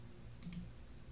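A computer mouse clicks twice in quick succession, faint sharp ticks over a quiet room background with no talking.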